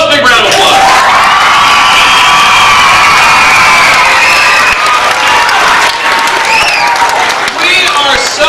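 A gym full of school children at an assembly bursts into loud, sustained applause with cheering, whoops and shouting that carries on without a break from start to finish.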